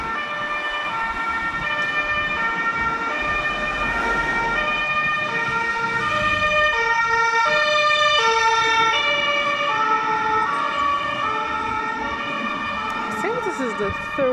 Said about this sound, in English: This is the third ambulance that I'm seeing now within the last 20 minutes.